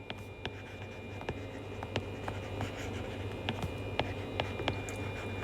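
A pen scratches on paper with steady close strokes and occasional sharper ticks, set against a constant low electrical hum.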